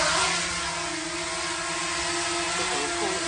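A drone taking off during a live test gives a loud, close, steady motor whine with a buzzing hum, and its pitch rises slightly toward the end.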